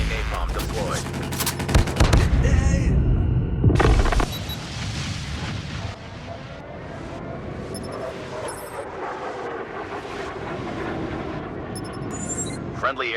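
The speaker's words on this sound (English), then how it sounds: "Friendly napalm deployed." Napalm strike explosions in Call of Duty Mobile, a dense burst of booms and crackling fire for about four seconds, then a quieter rumble mixed with gunfire and game voice callouts.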